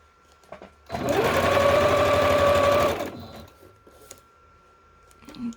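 A sewing machine stitches a zigzag on a triple ephemera pocket, running in one steady loud whir for about two seconds, with quiet handling noises before and after.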